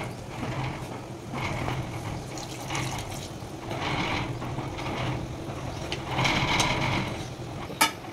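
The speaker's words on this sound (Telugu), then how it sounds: "1 గ్లాస్ వాటర్ పోసుకోవాలి." A glass of water is poured into a pan of cooking greens and tomato paste, giving a close, continuous splashing gurgle in several swelling bursts, followed by one sharp knock near the end.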